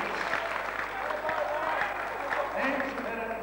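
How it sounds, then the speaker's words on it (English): Crowd applause at a 5 Star Promotions kickboxing show, continuous dense clapping at an even level with background voices and chatter running through it. "Come on, give the Angel a big round of applause here."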